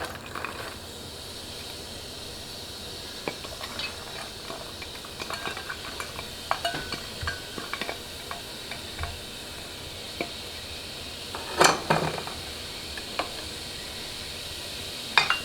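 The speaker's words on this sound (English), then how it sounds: "to that oil in our hot pan, we're going to add in our diced onions and our garlic" Diced onions and garlic sizzle steadily in hot oil in a pan, a close, continuous frying hiss broken by scattered clinks and scrapes from stirring.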